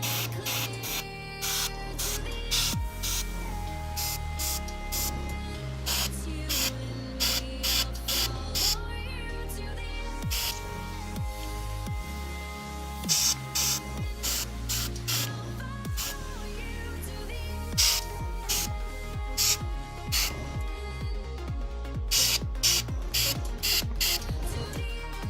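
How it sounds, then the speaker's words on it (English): Paint sprayed through an airbrush onto a rock model, a steady hissing spray running throughout with brief bursts and pauses as the trigger is worked, close and fairly loud with no one talking. "Okay, so I'm going to dump the content of the airbrush and do an actual clean"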